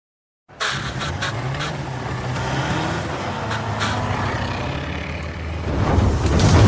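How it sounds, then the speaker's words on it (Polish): A car engine drones steadily and loudly throughout, swelling near the end as if revving, from the flying car scene in Harry Potter and the Chamber of Secrets with no voices heard. "Pierwszą sceną jest ta, w której Ron ma problemy z prowadzeniem samochodu, który lata."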